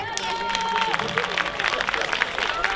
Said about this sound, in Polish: brawa dla niego